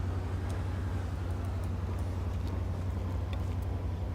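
A car engine in a video game vehicle test hums low and steady as the car eases forward, a constant droning tone with faint clicks and no talk.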